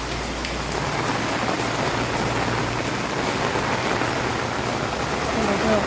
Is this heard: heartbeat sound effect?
no